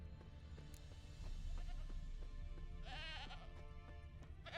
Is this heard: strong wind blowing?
no